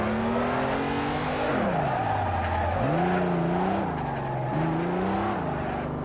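A car in the Assetto Corsa racing game on PS4, drifting with a loud, sustained tire squeal over a revving engine whose pitch swoops up and down as the car is thrown side to side, with no speech.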